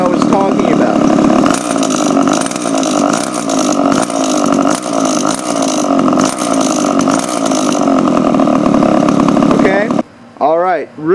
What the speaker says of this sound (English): As I give the engine a little bit of throttle, you can hear that bell ringing noise that I was talking about.